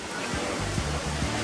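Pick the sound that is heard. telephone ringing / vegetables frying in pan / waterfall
waterfall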